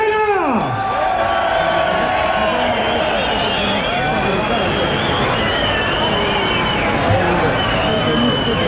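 A large crowd at the Pingüinos 2019 winter motorcycle rally in Valladolid cheers, whoops and applauds loudly and continuously while an amplified voice rises over the din.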